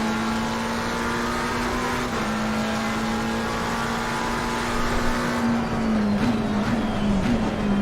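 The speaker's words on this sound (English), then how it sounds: "This Porsche is very quick off the line" Porsche race car in Assetto Corsa Competizione at Imola holds a steady, loud engine drone at high revs, then dips through quick downshifts near the end, with no talking.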